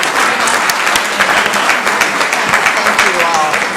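Audience applause fills a city council meeting in Columbus, Georgia, a steady dense clapping from a crowd that carries evenly through the whole stretch, with a few brief voices mixed in.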